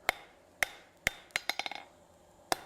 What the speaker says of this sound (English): I'm using half on, half off blows over the hardy hole in the anvil.